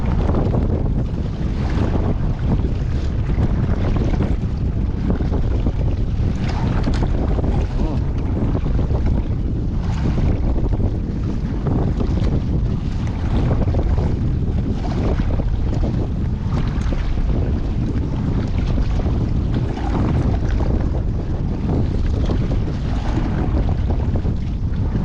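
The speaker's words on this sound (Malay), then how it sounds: "angin padu" Strong wind roars steadily into the microphone for the whole stretch while kayak fishing in rough conditions before a storm, a continuous loud buffeting with waves and water noise mixed underneath.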